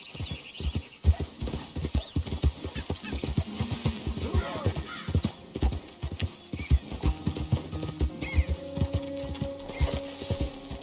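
Rapid clip-clopping hooves trot steadily up close in Red Dead Redemption 2, with a horse whinnying and faint game music tones joining toward the end.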